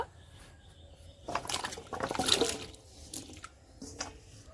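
Vegetable pieces, ash gourd for a sweet preserve, dropped into water in a cooking pan on a kitchen stove, a brief burst of splashing and sloshing in the middle, quiet and close, with faint dripping around it.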